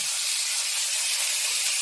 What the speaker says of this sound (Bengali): এবার আমি কাটা টমেটোগুলো ঢেলে দেব